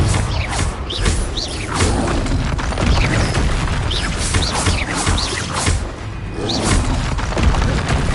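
A Confringo spell in Hogwarts Legacy erupts in booming fiery explosions with whooshes and crashing impacts, loud and continuous through a chaotic battle.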